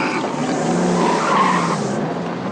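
A Citroën DS accelerates to overtake another car on the road, giving a loud, close engine roar with a brief strained, squealing rise.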